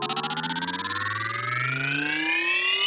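A podcast sound effect for the homework board, a bright electronic alarm-like tone with steady rapid pulsing and gliding pitch, loud and alone for about three seconds.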